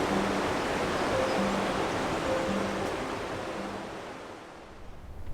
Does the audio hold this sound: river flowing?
yes